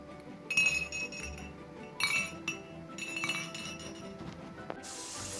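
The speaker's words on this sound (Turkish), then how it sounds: "Bardaklarımızı da hazırladım." Drinking glasses clink together as they are set out on a table, with several sharp, bright chinks scattered through the stretch over faint room background and no talk.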